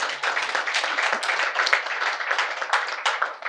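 A crowd at an outdoor PNM political rally in Arima, Trinidad applauds, with dense, continuous hand clapping from many people, fairly loud and sustained with slight swells, and no talk over it.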